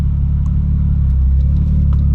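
A Nissan Skyline R33 GTST engine rumbles at a deep steady idle-to-rev, a loud low pulsing drone close by with a few faint clicks on top.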